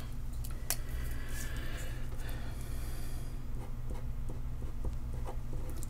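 A pen writes in a Passion Planner, making quiet close scratching strokes with small taps and pauses over a faint steady hum.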